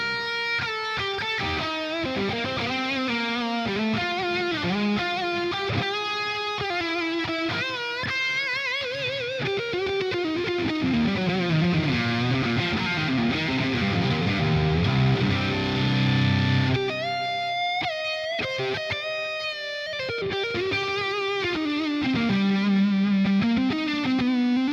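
Distorted electric guitar through a saturated lead amp with reverb and delay plays a sustained lead line, its notes swelling with reverb and echoing repeats, loud and alone.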